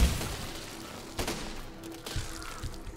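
Cannons on a siege machine built in Besiege fire in a few heavy booming thumps spread across the moment, loud and close over a rumbling game background, with no talk.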